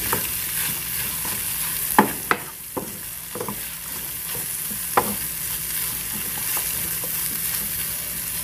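Onion and chives being stirred as they fry in a pan, a steady sizzle with several sharp scrapes and clicks of the spoon against the pan, close and alone.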